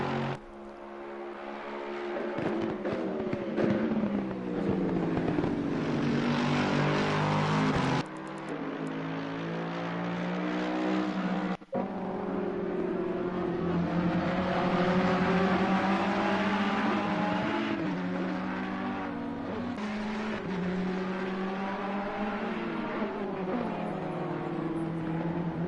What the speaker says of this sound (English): go the identical Ferraris making their way up to the start finish straight here at Catalunya